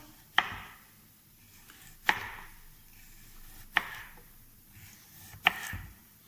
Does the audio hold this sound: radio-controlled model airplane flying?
no